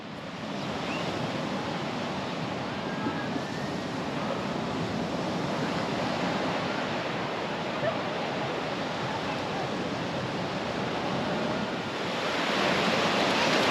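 Surf rolling in on Patara Beach in Turkey, a continuous loud wash of breaking waves with wind buffeting the microphone, swelling louder near the end.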